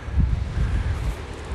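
Strong wind blows outdoors at a garden centre in Anapa, buffeting the microphone with loud, rumbling low gusts that swell and ease continuously throughout.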